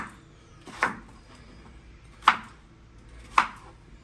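Three separate knife chops on a cutting board during home cooking, crisp close thuds spaced about a second apart over a quiet room with no voices.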